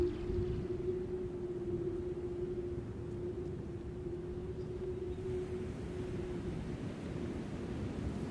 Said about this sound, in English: That's the wind blowing through all the regs.